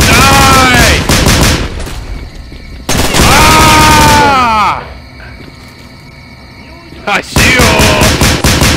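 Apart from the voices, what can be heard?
gunfire in the video game STALKER: Clear Sky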